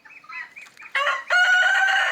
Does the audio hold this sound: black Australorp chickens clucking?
yes